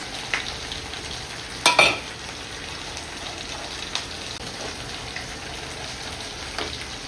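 Garlic, chilli flakes and flour sizzling in hot oil in a pan, a steady frying hiss with a few sharper crackles and stirring clinks, close and fairly loud.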